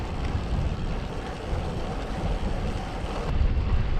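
A northeast wind buffeting a cyclist on a road ride, a loud continuous rumble of gusts against the microphone that swells near the end, with no talk.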